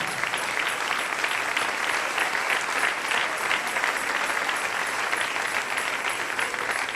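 A church congregation claps together in sustained, dense applause that stays steady and fairly loud from start to finish, with no break or speech over it.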